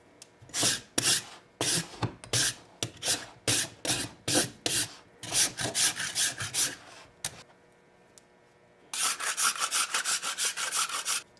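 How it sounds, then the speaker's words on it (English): Rasp filing the sides of a cast severed-finger mold, close and loud, in quick rhythmic back-and-forth strokes with short pauses and a final steady burst of rubbing. "So you take a rasp,"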